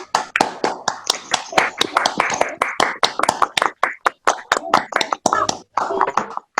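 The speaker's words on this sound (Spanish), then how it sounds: "podemos desmutear los micrófonos y hacer un aplauso." On a video call with microphones unmuted, participants at a book presentation clap in sharp, separate bursts with brief silent gaps, irregular and close-sounding, as several people applaud at once.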